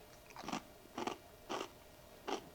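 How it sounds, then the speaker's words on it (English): Four crisp, crunchy bites of a cracker, evenly spaced about half a second apart, close and clear against a quiet background. "You need to hear this crunch."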